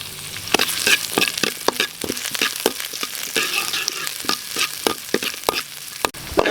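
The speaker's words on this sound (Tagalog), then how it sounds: "Gigisa na po ko dito mga kagutom." Sautéing aromatics in a pan for beef skin binagoongan, with hot oil sizzling steadily and sharp, repeated clicks and scrapes of a spatula stirring at an irregular rhythm, close to the microphone, with no talking.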